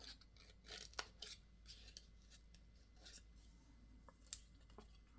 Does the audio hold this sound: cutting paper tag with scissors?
yes